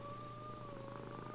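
Caged cats meowing in a shelter scene of a video game, a continuous soft, steady cat vocal tone held under faint background game sound, mid-level and unbroken throughout.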